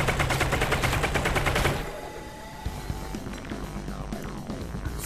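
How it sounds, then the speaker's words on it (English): Rapid, loud gunfire from shooting enemies in the video game Half-Life: Alyx comes as a fast burst of shots, then fades into quieter game ambience and a few scattered impacts. "I'm gonna shoot them before."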